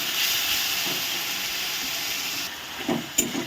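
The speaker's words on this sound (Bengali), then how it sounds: "মশলাটাকে আমি একটু কষিয়ে নিচ্ছি।" Ginger, garlic, cumin and green chilli paste sizzles with onions in hot oil for an egg and potato curry, a steady close frying hiss that drops slightly near the end, with a few soft stirring knocks.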